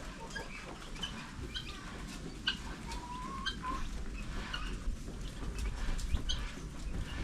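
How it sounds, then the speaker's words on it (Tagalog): Darag native chickens on a farm clucking, several birds giving soft, scattered clucks and short calls at close-to-middle distance over a steady low background rumble, no talk. "Ang gaganda ng darag."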